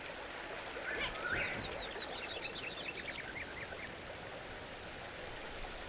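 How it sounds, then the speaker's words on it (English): A waterfall in the video game Enshrouded rushes steadily at the top of the falls, a constant broadband wash with faint chirping birds over it and no speech. "And here we are, just here at the top of the waterfall."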